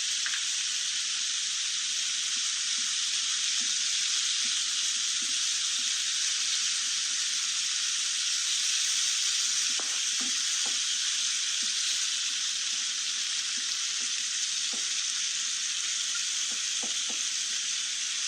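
Keema sizzles and fries steadily in a pan after chopped tomatoes go in, a constant bright hiss with occasional soft stirring clinks, close and unbroken throughout.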